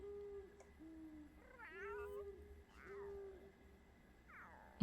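A cat meowing in The Sims 3, several drawn-out meows spaced a second or so apart, fairly faint over quiet game background tones.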